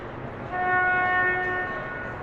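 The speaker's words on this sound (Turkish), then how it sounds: "Bu biliyorsunuz her korna bir satış anlamına geliyor." A sailboat's horn gives a steady, tonal blast with layered harmonics for about a second over low rumbling background noise, then stops.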